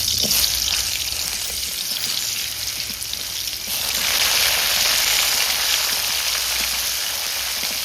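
Mixed cut vegetables drop into hot oil tempered with dried red chillies, whole cumin and bay leaf for a vegetable khichuri, setting off a loud, steady sizzle that swells stronger about halfway through and keeps up without pause.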